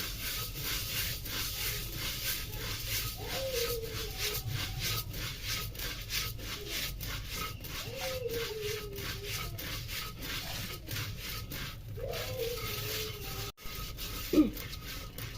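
Rice is stirred in a pan on a clay stove while being roasted into crispy puffed muri with salt water added, making a steady, close scraping and rustling that continues throughout, with faint voices now and then.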